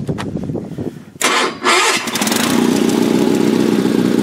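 A Sears SS16 garden tractor engine starting cold in winter: a few seconds of cranking, a brief catch and stumble, then the engine fires and settles into a loud, steady close idle, with no talk.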